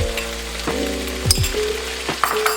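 Pork filling with green onion and salt frying in a pan for steamed buns, a loud close sizzle under a low steady hum, with several scraping stirs and clinks of a utensil against the pan.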